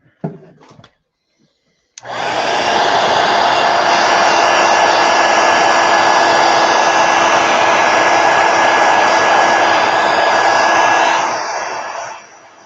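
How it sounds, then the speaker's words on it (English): A heat gun drying paint in an art journal blows with a loud, steady whooshing roar for about ten seconds after a brief quiet start, then tapers off, close by. "I'm going to hit it with a heat gun real quick."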